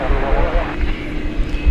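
American Airlines Airbus A321 jet arriving at DFW Airport at night, a loud broad engine roar filling the whole moment, with a voice talking over it.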